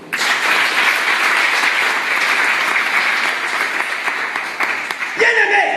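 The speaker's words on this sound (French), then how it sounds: "Acclame Jésus, non?" Church congregation applauding steadily and loudly for several seconds during a French-language sermon, dense continuous clapping that tapers near the end, with crowd voices mixed in.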